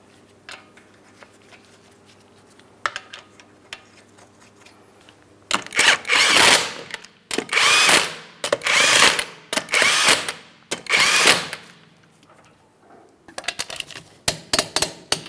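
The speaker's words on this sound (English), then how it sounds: "torque each of them to 100 foot-pounds" A torque wrench tightening 19mm lug nuts on a 2008-2016 Chrysler Town & Country wheel to 100 foot-pounds: after a quiet stretch, five loud bursts of mechanical ratcheting and clicking in close succession, followed by a few shorter clicks.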